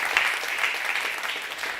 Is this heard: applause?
yes